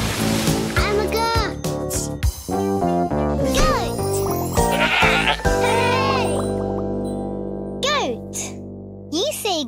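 A nanny goat bleats in a children's program, loud and close, with several wavering cries mixed with a child's and an adult's voices and cheerful music throughout.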